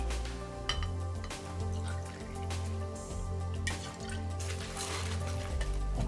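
Deep Eddy vodka is poured out for a Cosmopolitan cocktail, a close liquid splashing and trickling run with small clinks and drips scattered throughout.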